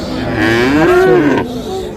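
A single cow at a cattle market gives one loud, close, drawn-out moo that rises and falls, with market murmur beneath it.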